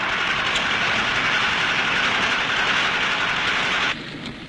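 A railway train hauling construction material to a dam site in India rumbles by at close range, a steady broadband roar that stays loud throughout and eases slightly near the end, with no voices.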